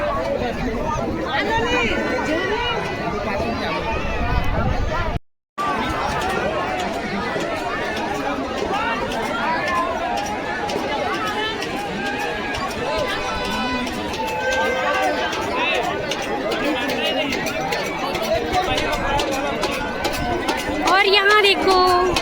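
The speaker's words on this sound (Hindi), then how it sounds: "यहाँ देख सकते हो सवारी हो बहुत ज़्यादा भीड़ बने हुए हैं" A dense crowd at the Jaleshwar Mahadev fair (Dongariya fair), Pandatarai, Kawardha, with loud continuous hubbub and chatter and many voices close and far. A voice talks over it, and there is a brief dropout partway.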